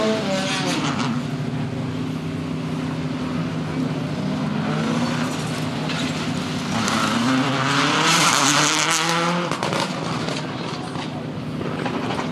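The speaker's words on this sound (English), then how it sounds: "Now the Escort Cosworth has come off the line." The original Ford Escort Cosworth development car pulls away from the start line at a Race Retro event, its engine note rising loud and close with tyre noise and a crowd murmuring beneath.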